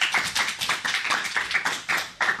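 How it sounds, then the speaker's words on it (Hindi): A small school audience claps in a quick rhythmic burst of about a dozen even claps, close and fairly light, with no voices over it. "तालियां।"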